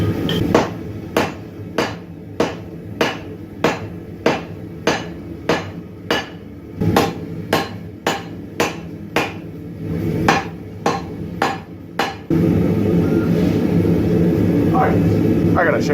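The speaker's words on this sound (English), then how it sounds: "I think I'm getting the hang of drawing out the steel" Hot steel struck with a hammer at a forge while it is drawn out, a steady series of about twenty sharp, loud blows at an even rhythm that stop near the end, with faint talk underneath.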